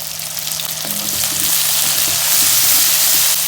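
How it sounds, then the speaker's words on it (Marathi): Loud, dense sizzling of onion and curry leaves sautéing in an iron pan, steady and close, with a few faint scrapes and clinks. "कांदा छान परतून घ्यायचा आहे"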